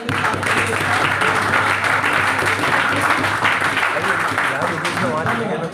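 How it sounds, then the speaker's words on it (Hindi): Loud, sustained audience applause at a parliamentary debate grand final, dense clapping filling the hall for nearly six seconds with a low hum beneath and crowd voices mixed in. "एक बार जोरदार तालियां"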